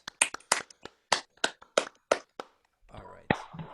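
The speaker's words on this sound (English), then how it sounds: "Round of applause." A round of applause after a piano performance of Debussy's prelude 'Bruyères' at a performance seminar, a sparse handful of separate, close claps in an uneven rhythm before a brief voice cuts in near the end.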